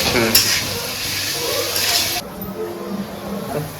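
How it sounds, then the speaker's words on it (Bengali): Onions sizzle and crackle in hot oil with salt in a home Bengali kitchen, a spoon scraping and stirring them close up; the broadband hiss is loud in the first half, then softens after about two seconds. "আমি লবণ দিয়ে ভালো করে একটু ভেজে নিই"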